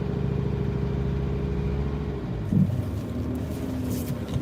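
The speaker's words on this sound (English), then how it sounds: "we're going to need some high revs for this, and then backwards we go." A van engine revs hard, holding steady at high revs with a strong low drone and a brief louder surge midway, close and continuous.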